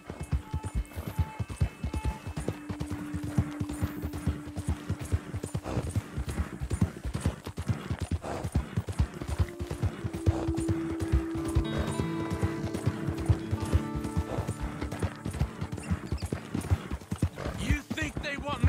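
Horse hooves clip-clopping steadily in Red Dead Redemption 2, a continuous close rhythmic patter under a man's low speech, with music and a brief whinny.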